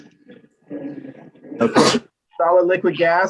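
In a chemistry lecture hall, one loud, abrupt sneeze bursts out between stretches of a lecturer's speech, which continues soon after.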